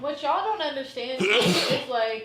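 A single sharp sneeze bursts out in the middle of casual conversation, close and loud, with people talking on either side of it.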